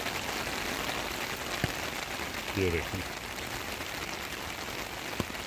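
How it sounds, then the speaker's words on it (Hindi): Heavy rain pours down steadily in Islamabad, a dense continuous hiss under a voice, with a few sharp knocks now and then. "देखें बारिश किस रफ्तार से आ रही है"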